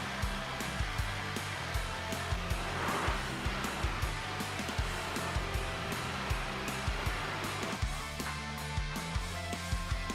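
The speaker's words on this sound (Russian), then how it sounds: "С помощью фена нужно разогреть и прижать плоским предметом" A heat gun blows continuously for about ten seconds while warming flattened polypropylene pipe strips, an 8 mm wall pipe being shaped into bow limbs, with a steady loud roar and small knocks and clicks repeating throughout.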